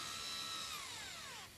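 A power drill whines steadily, then drops in pitch as it winds down, during volunteer work restoring a steam railway; a single continuous burst, close and fairly quiet.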